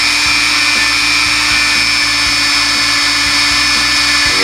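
Rotary tool polishing the feed ramp of a Taurus pistol, a loud, continuous high-pitched motor whine with steady grinding buzz, close and alone.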